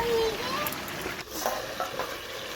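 Broiler chicken braising in a pan after sugar is added gives a steady, close sizzle with stirring scrapes throughout, while a voice is faintly heard in the background.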